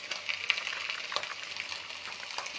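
Egg mixture frying in a pan while being stirred, a soft steady sizzle with light scraping taps of the spatula, close and fairly quiet, with no talking.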